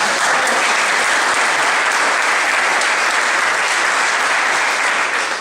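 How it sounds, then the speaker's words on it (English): A packed room at a political dinner event breaks into loud, sustained applause, a dense, even wash of many hands clapping that continues without pause. "Let's give a round of applause."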